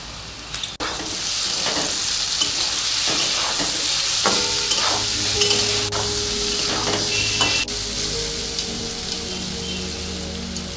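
Tomato and turmeric frying in hot oil in a pan, a steady loud sizzle with scattered crackles and a few stirring scrapes and knocks of a utensil against the pan, close up and with no speech.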